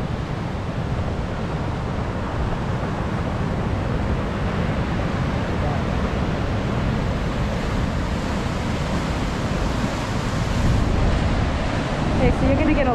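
Large ocean waves crash against the shore below coastal bluffs at Montana de Oro, a continuous heavy roar mixed with gusty wind buffeting the microphone, swelling slightly near the end.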